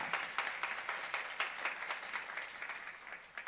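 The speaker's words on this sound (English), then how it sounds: "Please give him another round of applause" Audience applause at a school English speaking contest in Ulsan, greeting a Chase Bank consultant; steady moderate clapping from a crowd for several seconds, somewhat distant, with no talk over it.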